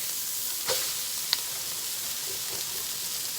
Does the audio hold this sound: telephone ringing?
no